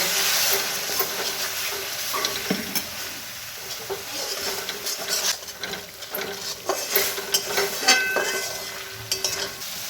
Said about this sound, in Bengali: মশলার মধ্যে আমি সামান্য একটু জল দিয়ে মশলাটাকে ভালো করে কষিয়ে নেব।